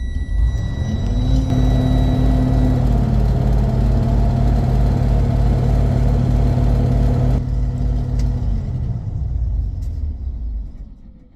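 A truck engine with a faulty CPC4 powertrain controller races up on its own to a high, sustained roaring rev with a steady whine, then winds down and fades as it is shut off.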